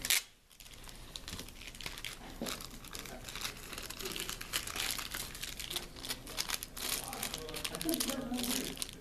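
Packing tape crinkles and tears off a cardboard package while unboxing a Star Trek Attack Wing Enterprise NX-01 set, close-up with continuous rustling, crumpling and ripping bursts and someone talking now and then.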